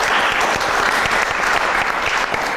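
An audience claps steadily for comedian Avet Zohrabyan at a comedy evening, a dense, continuous round of applause filling the room for a few seconds.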